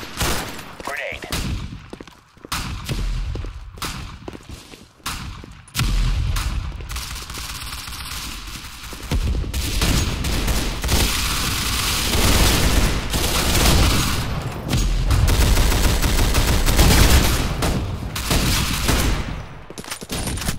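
Grenade explosions and gunfire in the Roblox game CBRO, with loud sustained volleys of shots and booming blasts filling the scene, a voice calling out over the opening moments before the shooting dominates.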